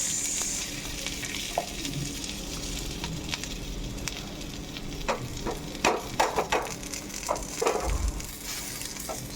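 An onion paratha fries lightly in ghee and is turned slowly, producing a soft, continuous sizzle with scattered sharp crackles and scraping clicks, growing busier toward the end.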